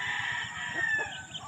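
Chickens cluck in a farmyard while a rooster crows, the calls fairly close and steady over a low background, with no talking.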